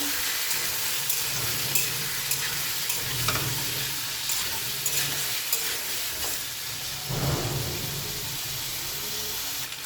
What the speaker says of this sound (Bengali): আমি আরেকবার নেড়ে দেবো।